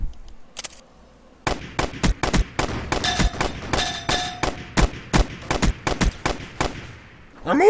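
Rapid gunfire in the video game Boring Man, a dense run of sharp, loud shots in irregular bursts with metallic ringing clangs mixed in, starting after a brief quiet lead-in.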